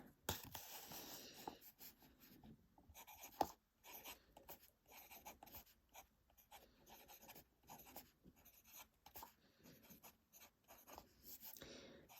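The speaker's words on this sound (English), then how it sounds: "And I'll write, the color, or the ink name." Fountain pen scratching quietly across paper in short strokes and pauses, writing the name of Pilot Iroshizuku Yama-Guri ink, faint and close with no talking.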